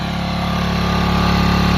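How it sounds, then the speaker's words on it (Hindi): A cold motorcycle engine runs loud and close in winter weather, a steady rapid low putter with a regular pulsing beat that holds throughout the short stretch with no voices. "वहाँ पे मेरी बाइक खड़ी है, तो उसको स्टार्ट करता हूँ"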